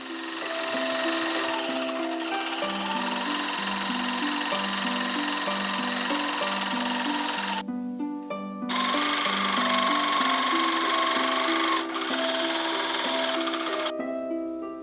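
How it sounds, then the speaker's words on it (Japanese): A sewing machine stitches gathering lines along the cap and cuff edge of a dress sleeve, a steady whirring hum in runs broken by two short stops, close and clear. "袖山とカフスをつける側にギャザーミシンをかけよう。"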